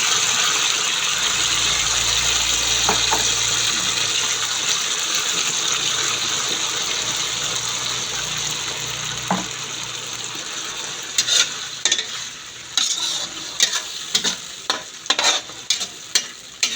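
Sardines hitting a frying pan of browned aromatics for ginisang miswa with patola, raising a loud steady sizzle that fades into sharp clinks of a spatula stirring and scraping the pan near the end.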